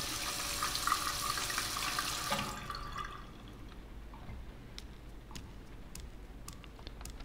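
In the video game Heavy Rain, water runs steadily from a washbasin tap for a couple of seconds and then stops. A few faint drips and small clinks follow in a quiet room.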